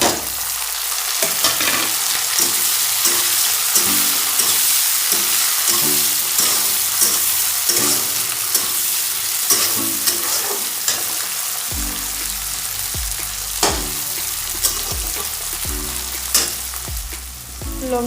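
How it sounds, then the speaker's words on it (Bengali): Tomatoes, chilli and onions fry in a pan while being stirred, giving a steady close sizzle broken by repeated scraping strokes throughout, with no talking. "লঙ্কা পেঁয়াজগুলো সবগুলো ভাজা হয়ে গেছে,"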